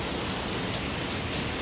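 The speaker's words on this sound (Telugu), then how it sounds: "చాలా భారీగా వర్షం వస్తుంది" Torrential rain pounds down outside an office in Hyderabad, a continuous, close, roaring wash of water with no talking.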